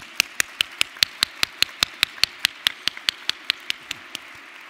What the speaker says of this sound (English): I think we should all give him a clap and send him greetings from our hall.